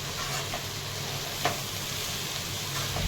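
Onion and dal sautéing in a pan, a faint steady sizzle with a couple of soft stirring scrapes, close and quiet, with no talking.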